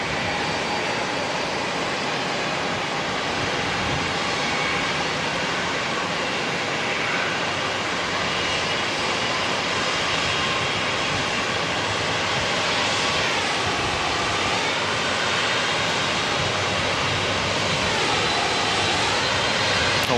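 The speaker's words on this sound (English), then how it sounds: "We've got Air Chatham's coming in from Queenstown with the ATR 72-500." An Air Chathams ATR 72-500 turboprop airliner from Queenstown comes in to land at Auckland Airport, giving a steady, broad engine roar that stays loud and even throughout, with no talk.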